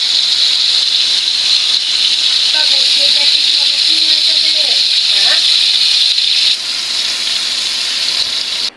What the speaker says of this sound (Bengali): এইদিকে মাছ ভাজতে শুরু করে দিয়েছি, তো মাছগুলো আস্তে আস্তে ভাজা হোক।